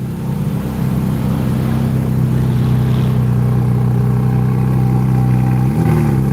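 A Porsche GT4 RS passes near an outdoor flea market, its engine giving a loud, steady mid-range drone that holds evenly throughout and shifts pitch slightly near the end.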